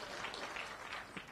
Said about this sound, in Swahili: Tuko na Roko ni kutoka Mbere North, mpigeni makofi